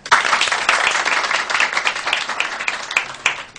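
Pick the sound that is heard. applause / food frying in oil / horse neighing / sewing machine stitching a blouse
applause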